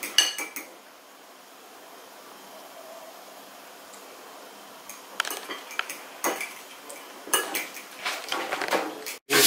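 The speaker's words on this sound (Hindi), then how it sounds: "दूसरा इसको भी फेंट के इसको भी मिक्स करेंगे, इसमें चिकन डाल के" A spoon clinks and scrapes against a bowl while a beaten egg and chicken mixture is whisked, faint at first and then a run of quick, close metallic strokes in the second half.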